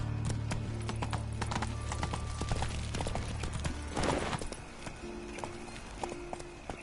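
Roach, the horse in a video game, gallops in a steady rapid clip-clop of hooves over continuous ambient game sound. Someone speaks briefly over it.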